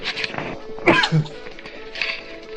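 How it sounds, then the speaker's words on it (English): A man sneezes once, sharp and close, into a sports talk podcast microphone, with a short burst of breath and voice before quieter room sound. "I sneezed there."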